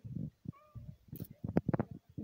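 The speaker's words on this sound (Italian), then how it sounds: "gatto." A domestic cat meows several times in quick succession, close and fairly loud, with a short tonal whine between the louder calls and no talking over it.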